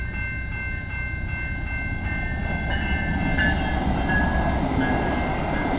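VIA Rail passenger train 73, led by engine 2217 with five coaches and cab car 2320, rolls past at Egerton St in London, Ontario, with a loud steady rumble, wheel squeal and a sustained horn-like tone.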